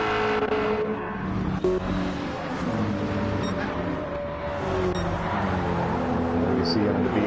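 Race cars in Gran Turismo 7 lapping a track in a GT Cup night race, a steady loud engine drone with shifting revs and passing cars throughout, with a commentator talking over it.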